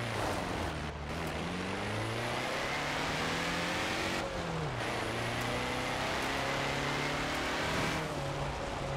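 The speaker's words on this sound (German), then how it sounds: "Und es klingt auf jeden Fall schon mal nach einem schönen alten Boxer." An old Porsche boxer engine drives in Forza Horizon 4, a steady loud rumble that rises and dips in pitch through gear changes, heard alone and close.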